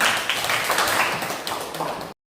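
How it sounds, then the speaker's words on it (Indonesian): Classroom hand clapping for a student's correct answer about biotechnology, a brief even patter of many hands that cuts off abruptly at the end. "Bagus, tepuk tangan"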